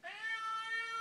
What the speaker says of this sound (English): Come here, kitty. What are you doing in here?